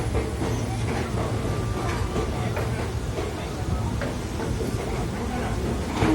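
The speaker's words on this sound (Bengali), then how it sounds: "ট্রেন আসলো এই প্ল্যাটফর্মে" A train pulls in at a station platform with a continuous heavy rumble and clatter of wheels and carriages, loud and close, with faint voices in the background.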